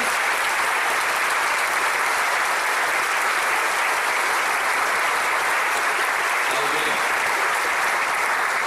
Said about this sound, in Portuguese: Vamos aplaudir forte ao Senhor